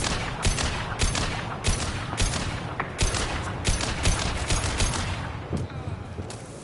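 Rapid bursts of gunfire crackle through a Mass Effect 2 firefight, repeated sharp shots stacking over a dense, continuous layer of battle noise with no pauses.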